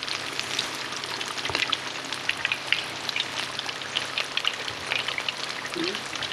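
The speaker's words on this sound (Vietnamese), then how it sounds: "mình cho lớn lửa dầu lên một chút thì là con tôm nó giòn và nó róc được mỡ nhé" Breaded shrimp deep-frying in hot oil over raised heat, a steady crackling sizzle with dense popping bubbles, close and continuous without talk.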